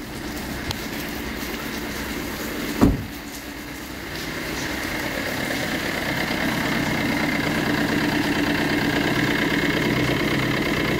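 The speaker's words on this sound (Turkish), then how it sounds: "Şu anda hali hazırda rölantide titremesi mevcut ve kupa inanılmaz sallanıyor." A coupe with a dual-mass flywheel idles roughly with a shaking, uneven rumble after its injectors were refitted, a steady close drone broken by one sharp knock early on.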